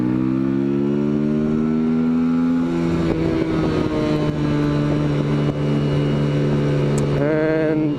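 A 2008 Yamaha XV250 Virago motorcycle is run flat out, its engine note climbing through a gear, dropping at a shift, then pulling steadily on, loud and close with wind rush.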